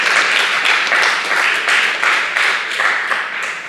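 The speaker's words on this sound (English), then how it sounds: "I think we should applaud for that" Audience at an exhibition talk for Detroit artist Tiff Massey breaking into loud, dense applause, a full steady roar of clapping that holds throughout and eases slightly at the end.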